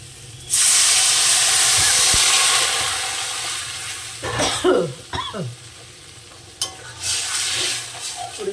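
Water hits a hot pan of singi fish curry with a sudden loud hiss that slowly fades over a few seconds. Then come scraping stirs and a couple of utensil knocks, close up.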